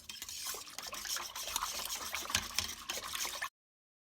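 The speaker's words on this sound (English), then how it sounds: "I simply pour that cultured milk into the jars." Cultured milk for homemade yogurt being poured into jars, a soft continuous liquid trickle and splash lasting a few seconds, close and quiet, ending abruptly.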